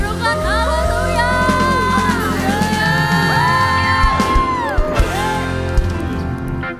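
A church congregation at a worship service shouts and cheers in a loud, sustained burst of crowd voices and whoops over a lingering musical backdrop.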